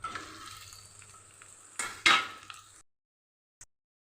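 Boiled potatoes go into a frying pan for a biuli dal dish, making a faint, quiet sizzle, then a short clatter and scrape before near silence and one last small knock.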